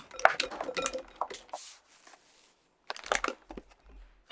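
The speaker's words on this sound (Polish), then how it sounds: "Pokrój marchewki w plastry." A kitchen knife slicing peeled carrots into rounds on a board, a quick cluster of crisp chopping clicks, a pause, then another short burst of cuts, close and fairly quiet.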